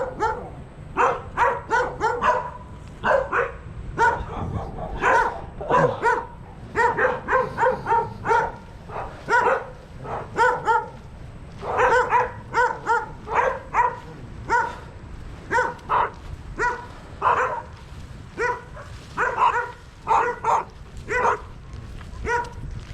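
Dogs barking repeatedly and loudly nearby during a beach hike on Saipan, a run of sharp barks and yips in irregular bursts that continues throughout.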